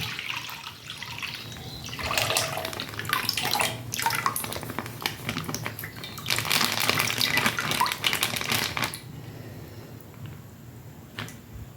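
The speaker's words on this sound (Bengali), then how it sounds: "আরও একটা দুধ দিয়ে দিলাম বন্ধুরা এক লিটার দুধ দেবো আমি এখানে" A litre of milk is poured into a pan for sago payesh, giving a continuous close liquid splashing and gurgling that swells in two bursts and then fades away.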